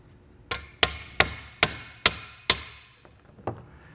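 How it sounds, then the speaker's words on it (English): A hammer taps a Bestop Supertop collapsible truck bed cover part onto a stud on a 2021 Ford, giving six evenly spaced sharp metallic knocks followed by two lighter taps, close and with no talk. "I kind of just put it down like this and just hit it with a hammer."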